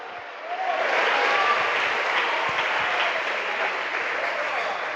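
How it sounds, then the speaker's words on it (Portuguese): Congregation at a thanksgiving church service breaks into sustained applause, rising quickly after a brief quiet start and holding steady as a dense, full wash of clapping, with a few faint voices mixed in. "Aplauda Jesus de Nazaré."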